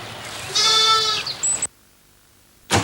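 A sheep bleats in a cheese commercial: one long, wavering bleat at close range and a brief high squeak, then a moment of silence and a sudden burst of sound at the end.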